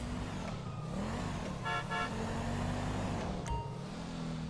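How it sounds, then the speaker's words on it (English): Car horns honking in the Grand Theft Auto video game, a couple of short toots over a constant low engine rumble of street traffic, with no talk. "Yeah, that's not me honking."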